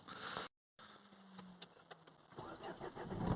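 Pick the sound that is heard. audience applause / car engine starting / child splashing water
car engine starting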